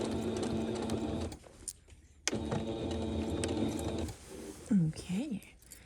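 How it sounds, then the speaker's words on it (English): A sewing machine stitches through both layers of a reversible tote bag's fabric in two steady runs, briefly pausing between them, then stops near the end as a voice speaks over a few quieter mechanical sounds. "since we're sewing through both layers"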